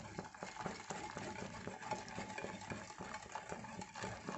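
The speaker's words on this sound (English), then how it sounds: "So I will add this one and I will whisk it nicely" Milk powder and saffron being whisked in a bowl for kulfi, a quick regular scraping and tapping rhythm, close and fairly quiet, with no voices.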